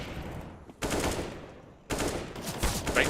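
Automatic gunfire in a competitive shooter at a Counter-Strike-style pro league match comes in two sharp bursts of rapid shots with quieter gaps between, close and loud.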